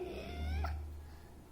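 A cat gives one short, rising meow over a low background hum at home.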